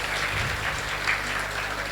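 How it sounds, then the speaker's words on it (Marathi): An audience applauds Manipuri dance performers with a steady wash of clapping that holds evenly throughout and sounds moderately close. "त्यांच्यासाठी एकदा जोरदार टाळ्या होऊन जाऊ द्यात"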